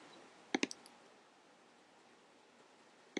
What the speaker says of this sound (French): il s'agit tout simplement d'être précis quand on clique pour choisir nos points